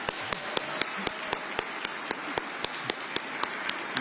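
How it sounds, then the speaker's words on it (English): Audience applause for the mayor at a Veterans Day breakfast reception, sharp separate claps over a steady wash of clapping, moderately loud and continuous for several seconds with no talk. "Another round of applause for the mayor, everyone."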